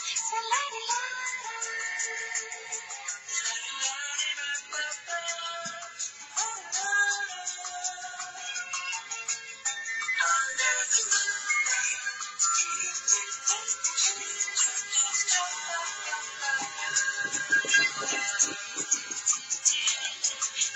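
Phone ringtone number 10 plays as a bright, busy electronic melody, steady and fairly loud throughout with no talking.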